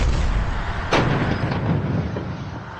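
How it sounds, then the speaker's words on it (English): Shells from a 25mm cannon burst around a Russian BTR armored vehicle in combat: a single sharp blast stands out over a loud, continuous rumble of engine and battle noise. "We can see shells exploding around the vehicle."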